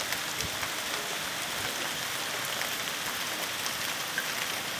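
Rain falls in a steady, even hiss of droplets, outdoors near a river and young plants, moderately faint with no voices.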